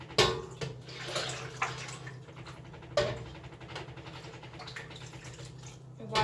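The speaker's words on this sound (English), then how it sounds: "I'm going to start to slowly add some more water." Water splashes and pours into a pot of cheese curds made from raw cow's milk, loud close gushing bursts with brief pauses and sloshing between them.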